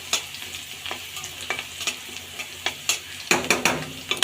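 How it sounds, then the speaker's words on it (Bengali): Chopped onion fries in a pan while a spatula scrapes and taps in quick irregular strokes over a soft continuous sizzle, growing busier toward the end. "পেঁয়াজটা এবার আমি সুন্দর করে ভেজে নেব।"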